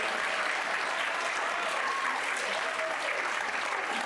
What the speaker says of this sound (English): One more big round of applause for Ms. Holden and our band officers.